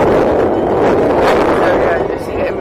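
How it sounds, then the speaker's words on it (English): Strong wind on the beach at Barry Island roars and buffets the microphone continuously, a loud rumbling rush close up with no pauses. "welcome to a windy day on Barry Island"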